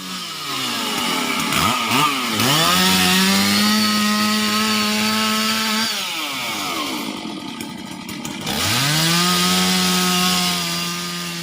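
A chainsaw roars loudly nearby as firefighters cut up a fallen tree blocking a road, revving up and bogging down in long cuts through wood, dipping briefly between two sustained passes.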